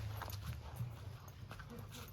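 A puppy barks outdoors in the woods, short yaps scattered through a steady, low rumbling background, fairly faint and somewhat distant.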